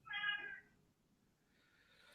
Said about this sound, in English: The cat's going crazy.